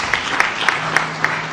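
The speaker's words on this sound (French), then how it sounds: "Est-ce qu'on peut les applaudir?" An audience at a conference of provincial assembly presidents in Goma claps in a brief, rhythmic burst, about six even beats under a steady crowd murmur.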